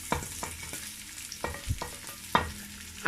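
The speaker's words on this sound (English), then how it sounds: "I'm going in straight away with onion." Onion, ginger and garlic frying in a pot for jollof rice, a soft sizzle broken by a few sharp stirring scrapes and knocks, close but fairly quiet.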